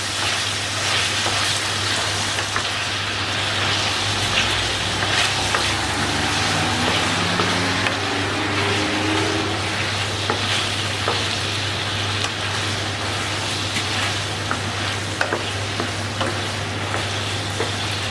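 Masala spices frying in a pan while a dish of testicles is prepared, giving a steady, close sizzle with crackly spitting over a continuous low hum, and occasional soft stirring scrapes throughout.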